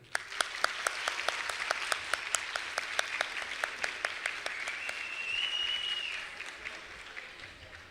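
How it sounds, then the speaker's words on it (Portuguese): At a UNIP liberty-thinkers debate evening, the audience applauds the guest speaker: crisp, evenly spaced claps repeat steadily, then swell briefly into a fuller, blended round of applause before thinning again. "E agora uma salva de palmas para o nosso convidado palestrante"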